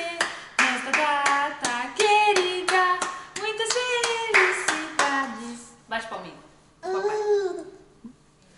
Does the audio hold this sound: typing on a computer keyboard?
no